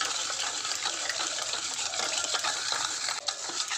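Sugar being stirred into oil in a bowl, a continuous soft scraping and swishing that stays close and steady, with one brief clink near the end and no talking.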